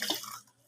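Tap water runs at a sink while dishes are washed, a faint, brief splashing trickle that fades out within a moment.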